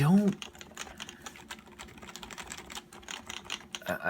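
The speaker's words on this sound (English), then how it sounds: "it emphasizes that thock a little bit" Rapid keystrokes clack on an HHKB Pro 2 mechanical keyboard with a thocky sound in a steady patter, with a brief voice at the start and end.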